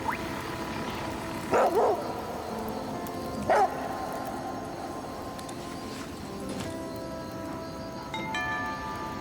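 A dog barks in the survival video game The Flame in the Flood, giving two short, moderately loud yaps a couple of seconds apart over a steady ambient game backdrop.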